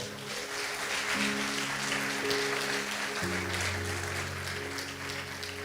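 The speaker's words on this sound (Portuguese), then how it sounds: "dá uma salva de palmas" Applause fills a church congregation, a steady wash of clapping throughout with sustained organ or keyboard tones underneath.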